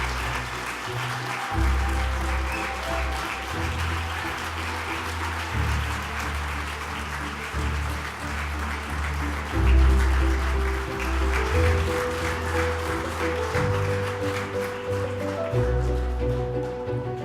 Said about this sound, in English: Let's have one more round of applause for Andrew Yang.